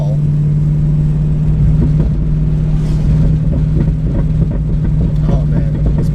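A Ford Mustang GT drives along with a steady, loud engine drone, and scattered light exhaust pops and crackles rise over it toward the end, heard from inside the car.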